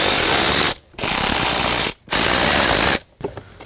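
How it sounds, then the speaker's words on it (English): A ratchet spins out 6mm screws holding the blower motor of a 2003-2006 Subaru Baja, in three close, loud bursts of rapid clicking separated by short pauses. "We have 3 6mm screws we need to remove in order to get the blower motor out."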